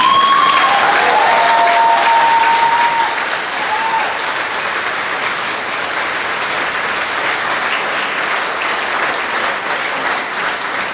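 A concert audience at Tuštanj castle applauds during a summer Limbar concert, the clapping loud and dense at first, then settling into a steady, slightly softer ovation that carries on to the end.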